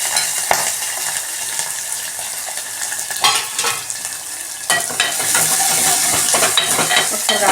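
Mustard seeds, cumin, chopped onion and green chillies sizzle steadily in hot oil, with a spoon clattering and stirring through the pan at close range.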